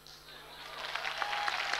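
Applause from a church congregation swells gradually from quiet to a fuller, steady clapping of many hands, with a faint hum and a sustained tone underneath.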